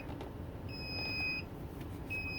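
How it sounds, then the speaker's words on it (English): Alarm from a faulty motorhome leveling jack, sounding as two separated electronic beeps, a longer tone followed by another starting near the end, over a steady low rumble of background noise. "now you can hear that alarm"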